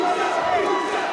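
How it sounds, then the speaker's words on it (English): A large crowd at a professional MMA event roars and cheers in a dense, sustained wall of voices, loud and continuous throughout. "Huge crowd support for Musa Christian here"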